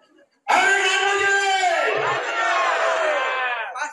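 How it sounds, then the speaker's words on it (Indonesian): Crowd of residents in Surabaya greeting a deputy mayoral candidate with loud, sustained cheering and shouting that bursts in suddenly and carries on for several seconds, close and dense. "Terima kasih untuk tepuk tangan untuk semuanya."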